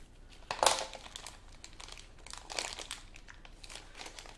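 A plastic piping bag is cut and handled, producing a sharp crinkle early on followed by softer scattered rustles and crackles, close and fairly quiet.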